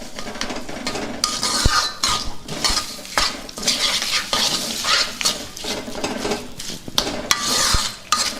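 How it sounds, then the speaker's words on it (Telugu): Amla (Indian gooseberry) chutney is stirred and mixed in a metal pan, with a spoon scraping and clinking against the sides in steady, repeated strokes and a faint sizzle underneath, close and fairly loud, with no voices. "మొత్తం బాగా కలుపుకుందాం"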